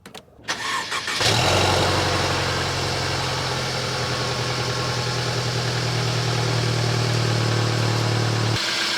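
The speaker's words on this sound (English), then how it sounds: "time for a cold start on the Benz" A Mercedes-Benz car cold-starts up close: a brief starter crank, then the engine catches and settles into a loud, steady, high idle that holds for several seconds before cutting off.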